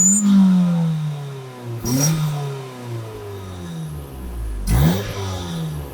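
A 2003 Mazda Protege5 engine revs repeatedly through an aftermarket HKS exhaust with a throaty note, rising and falling in pitch through several bursts, close by.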